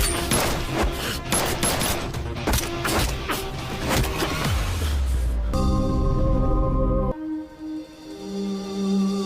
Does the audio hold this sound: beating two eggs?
no